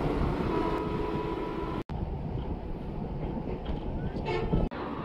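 Train rumbling across the Teesta railway bridge, a loud, continuous rolling roar with rattling metal, heard close by, with two brief breaks in the sound.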